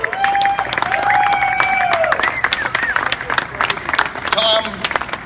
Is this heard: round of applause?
yes